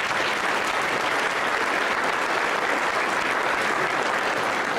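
Audience applause at a school spring music program for 5th to 12th grade students, a steady, dense wash of clapping from a large crowd that stays loud for the whole stretch.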